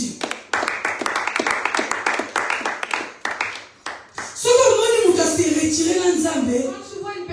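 A church congregation claps to acclaim Jesus during a French-language sermon, first a run of sharp, fairly regular hand claps, then a fuller burst of cheering voices and clapping swelling up together.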